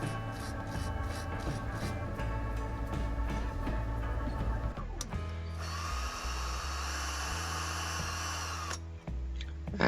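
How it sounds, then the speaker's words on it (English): A power drill fitting axles into a Dinky Austin taxi FX3 model whirs steadily, shifts pitch partway through, then runs at a higher, harsher whine before cutting out near the end. "And now using the drill to put the axles in"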